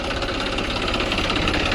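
A tractor engine runs steadily close by, a loud, continuous knocking drone with no pauses and no voices.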